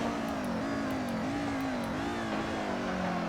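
Mercedes 190 DTM race car under hard braking. The engine note drops and wavers as the revs fall, with a steady drone and a faint whine throughout, heard close from the car with no voices.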